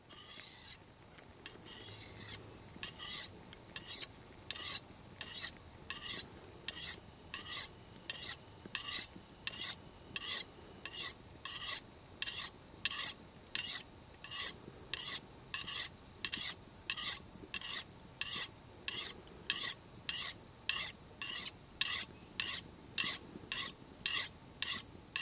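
A convex bushcraft knife is stroked across a sharpening surface in steady, evenly spaced raspy passes, dozens of close, crisp scraping swipes repeating at a brisk regular rhythm with no talking.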